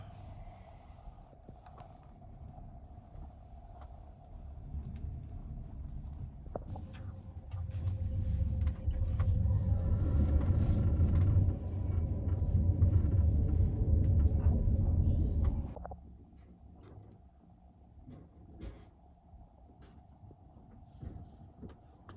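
Soviet-era sleeper train on a night run from Bucharest to Moldova, its low rumble along the rails swelling loud for several seconds mid-clip, then dropping to a quieter steady hum with faint knocks.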